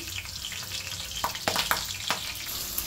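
Cumin, mustard seeds and green chili sizzle in hot oil, a steady frying hiss punctuated by a few brief popping crackles in the middle.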